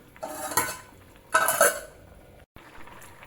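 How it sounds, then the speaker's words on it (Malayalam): Sardine curry reducing in a pan: two short bursts of scraping and stirring with a spoon against the pan, over a quiet bubbling simmer, with a brief clink and near silence between them. "ഇത് മസാല മൊത്തം ചാളയിലോട്ട് നല്ല പിടിച്ചു വരുന്നത് വരെ ഇച്ചിരി കൂടി വറ്റിച്ചെടുക്കണം"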